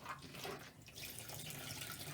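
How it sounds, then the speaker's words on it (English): Cold tap water runs steadily while a wet felted wool bowl is rinsed, a continuous close splashing gush with slight dips in intensity, no talking. "a good rinse in the cold water"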